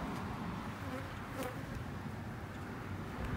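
Honeybees swarm around an open concrete hive full of honey and brood frames, making a steady, fairly soft buzz with no talking.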